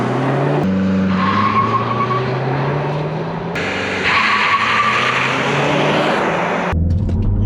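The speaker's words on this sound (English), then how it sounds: "I want you to just punch it and show this turbo off." A turbocharged 2021 Mazda3 hatchback engine roars under hard acceleration with tires squealing and skidding, loud and close, the pitch climbing through gear changes before cutting off abruptly.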